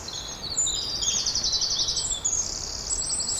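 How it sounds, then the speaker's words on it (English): A wren, a tiny bird, sings a loud, rapid trilling song in continuous bursts, high-pitched and fairly close, over faint outdoor background noise during a dawn chorus. "Oh, we've now got the wren singing."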